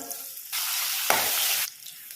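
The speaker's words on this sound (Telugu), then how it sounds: "ఇప్పుడు ముందుగా కట్ చేసి పెట్టుకున్న ఆనియన్ అవన్నీ కూడా కొద్దిగా వేయించుకోవాలి." Chopped onions with turmeric and curry leaves dropped into hot oil, a loud, sudden burst of sizzling that holds for about a second, surges again briefly, then cuts off abruptly.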